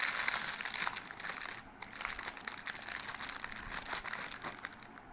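Steady crinkling and rustling of plastic packaging being opened around a set of golden stone-studded bangles, close and continuous with small crackles throughout and no talk.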